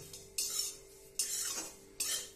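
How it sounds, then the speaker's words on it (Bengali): Oats and semolina stirred with a metal spoon in a dry kadai over low heat: three distinct scraping strokes against the pan, close and clear, with short pauses between. "1-2 মিনিট শুকনো কড়াইয়ের মধ্যেই আমি একটু নেড়ে নেব"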